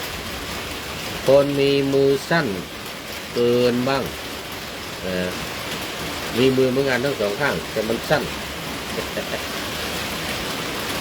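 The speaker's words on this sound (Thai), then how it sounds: "ตอนนี้เสียงดังขออภัยข้างบนนี้เป็นสังกะสี เวลาฝนตกจะเสียงดัง" Rain drumming on a corrugated zinc roof, a loud continuous hiss under someone speaking in a few short bursts.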